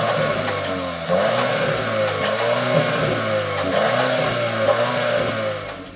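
The exhaust of a Cupra Formentor rumbles steadily, close and loud, with a few rising revs over a continuous engine drone and no talking.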